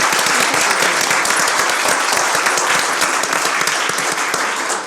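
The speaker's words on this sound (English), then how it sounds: "I just wanted to clap." Applause at a public school board meeting, one person's clapping spreading into a dense, steady round of hand claps from the room that holds loud and even for about five seconds before easing slightly at the end.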